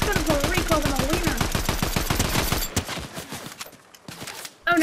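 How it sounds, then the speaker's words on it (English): Rapid automatic gunfire in the video game Fortnite, a loud, evenly spaced stream of shots for a couple of seconds, then sparser, quieter game sounds and a final short burst. "Okay, now I can definitely shoot him."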